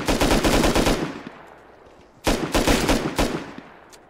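Automatic gunfire in the video game Rust, a loud, close burst of rapid shots, a pause filled with fading echo, then a second fast burst, with no talking.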